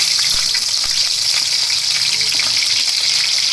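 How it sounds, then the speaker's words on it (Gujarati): Green chillies crackle and sizzle in hot oil in a kadai, a loud, continuous frying hiss with small pops that holds steady throughout, with no talking. "હવે તેલ ગરમ થાય એટલે સૌથી પહેલા આપણે તેમાં મરચાં નાખી દઈશું."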